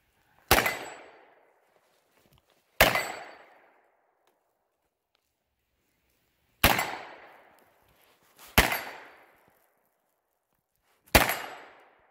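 Five loud, sharp gunshots from a Stribog SP9A1 pistol-caliber carbine fired at a wooden target 25 yards away, spaced unevenly over about twelve seconds, each crack trailing off in a brief echo with silence between.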